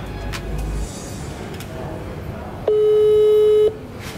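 A FaceTime video call rings on a phone as a single steady electronic tone lasting about a second, heard over a low background hum.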